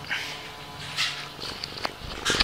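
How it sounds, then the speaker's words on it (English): A pet cat named Mundo purrs softly up close, a low, faint rumbling pulse that rises and falls with its breathing, with a few small rustles and no talk. "I guess I could say you were purring like a crazy ass cat"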